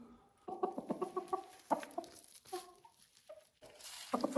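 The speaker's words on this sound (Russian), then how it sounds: "А в гнезде сидит коричневая, самая маленькая курочка." A small brown hen sits in her nest clucking in short, close, rhythmic bursts that rise and fall, with brief quiet gaps between the groups of clucks.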